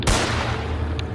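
Gunfire in a Roblox horror game, one loud broadband shot at the start followed by a sustained rumbling wash of echo and noise that continues to the end.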